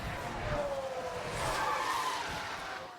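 Race car crash in the F1 Manager 2024 racing game, one car hit from behind: a loud, continuous tire skid and squeal with engine roar running for about three seconds, no talk over it.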